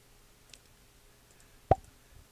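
A single short, soft pop sound effect for a 2D animation sounds once against near silence, quiet and close.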